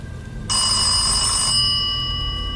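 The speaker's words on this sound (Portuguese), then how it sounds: "O telefone começou a tocar." A hotel room telephone rings with a bright, steady electronic bell tone that starts abruptly and holds for about two seconds, loud and alone.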